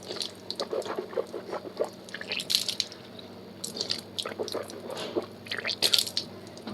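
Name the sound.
rinsing and swirling water in the mouth during wudu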